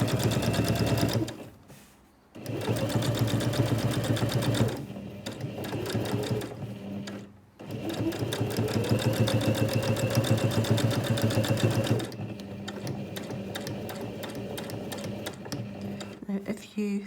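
A sewing machine stitches a zipped make-up pouch in loud, rapid bursts of needle chatter, pausing briefly while the fabric is pivoted at the corners before running on again, with a voice talking over the stitching.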